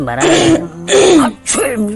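Three short, harsh bursts from a voice, each a loud throaty cough-like sound, imitated rather than a real cough, with brief pauses between them.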